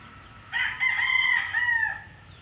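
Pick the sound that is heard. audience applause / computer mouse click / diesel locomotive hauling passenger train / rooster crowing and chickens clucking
rooster crowing and chickens clucking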